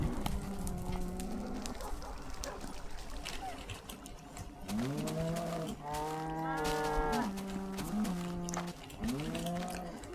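Cows moo loudly on a cow farm in a video game, with several long, drawn-out calls overlapping and repeating, close by and steady through the whole stretch.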